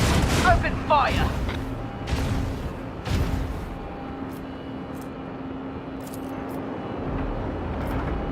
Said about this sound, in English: Macro cannon. Open fire.